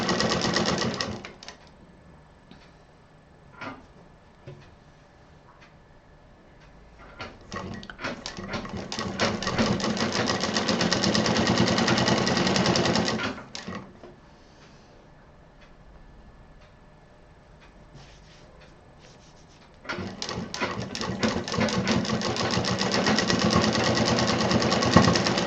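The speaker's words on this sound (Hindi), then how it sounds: "और जब इस पर सिलाई चल जाएगी" A sewing machine stitches a waterproof apron in bursts of steady rapid ticking, starting and stopping with quieter pauses between runs, close and fairly loud with no talk.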